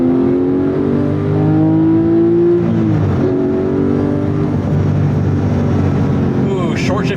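Loud, close Porsche 911 997 GT3 engine climbing in pitch under acceleration, dropping abruptly at a quick short upshift, then pulling up again, with cabin noise and a voice talking over it.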